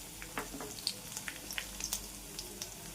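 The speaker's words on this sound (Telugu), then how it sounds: "ఇదంతా దోరగా వేగనిచ్చాలండి" A tempering of fenugreek seeds, cumin, dried red chillies and curry leaves frying in oil for sesame gongura chutney gives a faint, quiet sizzle with scattered small pops and crackles.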